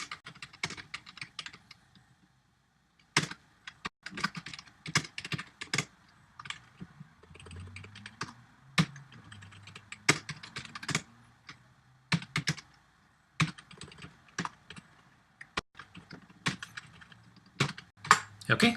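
Computer keyboard typing SQL insert code for a Spring JdbcTemplate tutorial: irregular bursts of sharp, close key clicks with pauses between, while someone talks quietly in between.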